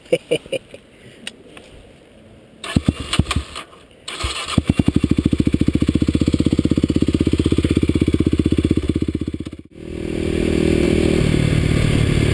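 A Kawasaki KLX250sf motorcycle cranks with clattering starter attempts, catches, then idles in a loud, close, steady thrum before the single-cylinder engine revs up near the end.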